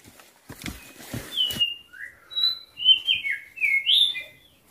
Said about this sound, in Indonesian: mendengar kicau burung hutan langsung seperti ini